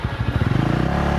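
A Honda Winner X motorcycle in second gear revs up close, its engine note climbing into a fast, steady pulsing drone that holds loud and alone for about a second.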